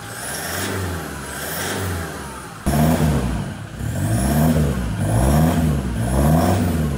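Toyota Hilux engine idling and revving through a 3-inch stainless exhaust, a loud close rumble with repeated rises in pitch and a sharp jump in level partway through, no talking.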